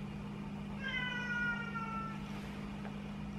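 Cats meow close by in a drawn-out call that rises and falls, heard over a steady low hum of outdoor traffic.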